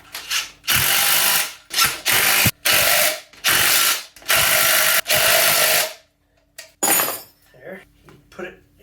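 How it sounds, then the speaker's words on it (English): A ratchet wrench tightens nuts on a homemade weight plate in a series of quick, loud clicking bursts with short pauses between strokes, followed by softer handling clatter. "So now I'm going to tighten these nuts."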